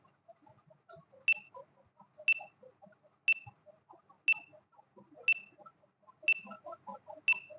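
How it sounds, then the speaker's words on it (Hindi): Countdown timer started for a timed set of quiz questions: a short electronic beep repeating once per second at an even pace, fairly clear over faint background clutter with no talking. "टाइमर मैं ऑन करने जा रही हूँ।"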